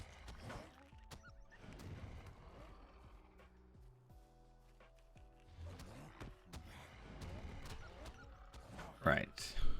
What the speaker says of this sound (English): On our horse, out of here we go.